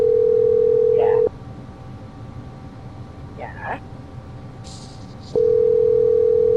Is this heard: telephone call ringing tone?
yes